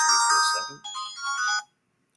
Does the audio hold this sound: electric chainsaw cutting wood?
no